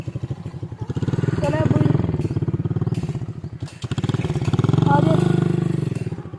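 Motorcycle riding home along a road, a steady close engine drone with rhythmic pulsing throughout, with a person talking over it.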